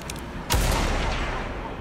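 A single gunshot in the video game Blood West, fired as a headshot, bursts out sharply about halfway through and leaves a lingering low rumble. No one talks.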